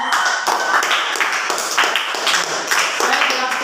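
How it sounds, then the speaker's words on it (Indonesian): A class of students clapping their hands in a classroom lesson, a close, loud burst of rhythmic group claps with a regular pulse about twice per second. "Berarti kita kasih tepuk tangan dulu."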